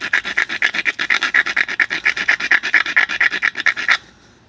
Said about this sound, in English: Stone grind the edge by going perpendicular to the piece this way.